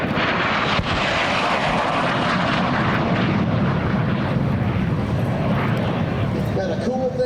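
An F-5 jet fighter roars through a pass at an air show, loud and steady for several seconds, its afterburner-capable engine rumbling and slowly fading toward the end.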